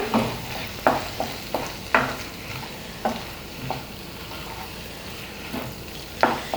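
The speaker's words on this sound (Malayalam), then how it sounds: "സോസ് ചേർത്ത് കൊടുക്കാം ഇത് നന്നായിട്ടൊന്ന് ഇളക്കി കൊടുക്കാം" Chilli chicken being stirred in a hot pan right after the sauce goes in, with irregular scraping and clattering strokes of a spatula over a steady low sizzle, close and fairly loud, no talking.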